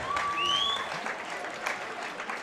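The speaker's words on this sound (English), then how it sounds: "ladies and gentlemen, a big round of applause, please, for both these men after 3 superb rounds of action" A crowd at a Muay Thai fight night in London applauds both boxers after a three-round bout, a dense, moderately distant wash of clapping with a brief whistle-like tone near the start.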